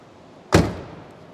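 A single solid 1969 Cadillac door slam, a sharp thump that rings out briefly, close by with no voices.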